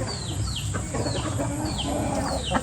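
Chickens cluck in a busy poultry farm yard, with repeated short calls over a constant background murmur of fowl.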